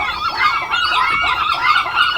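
A dense dawn chorus of gulls, with continuous overlapping cries and squawks, loud and close, with no pause throughout.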